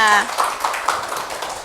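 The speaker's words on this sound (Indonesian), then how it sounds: "tepuk tangan dulu dong buat temannya" A classroom audience claps for a classmate during a lecturer-certification teaching session, a brief burst of scattered clapping following a short spoken word at the start.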